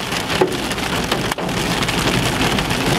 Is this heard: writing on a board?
no